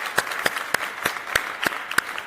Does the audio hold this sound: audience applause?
yes